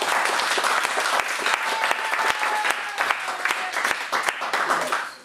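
A church congregation bursts into loud, sustained applause with scattered voices crying out in acclamation, dense clapping holding steady for several seconds before easing slightly at the end.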